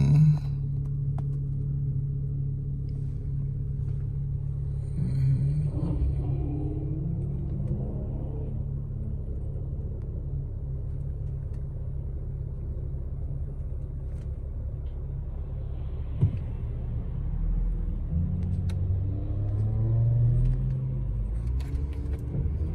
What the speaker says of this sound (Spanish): miren toda la chorrera de carro que hay